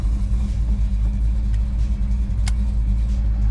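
A 1970 Chevrolet Chevelle with a big-block V8 drives at normal pace, its deep steady engine rumble dominating from inside the car, with a faint click or two over the drone.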